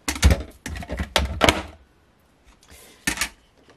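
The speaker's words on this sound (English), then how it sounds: "I'm going to grab my mini cut and emboss" A mini cut-and-emboss machine die cuts paper with a series of close clunking, ratcheting thumps in quick bursts, then a pause and one last clack.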